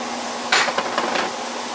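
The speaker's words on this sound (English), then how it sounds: "Throw the onions in there." Onions tossed into a pan of butter, giving a sudden clatter and sizzle followed by a few light metallic scrapes and taps from a pan over steady background noise.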